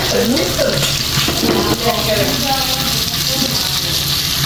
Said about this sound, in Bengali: পেঁয়াজগুলো বাজা হয়ে গেছে দিয়ে দিচ্ছি